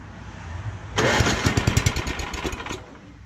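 A rebuilt snowblower engine catches after a second of quiet, then runs loud and close with a rapid, uneven popping putter before the noise eases slightly toward the end.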